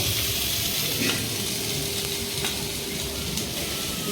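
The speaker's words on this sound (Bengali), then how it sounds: "বাবা এখানে কুমড়ো ভাজা করছে" Pumpkin frying in a pan with a steady, dense sizzle and occasional stirring scrapes, close and continuous with no talk, part of home cooking for a Bengali festival meal.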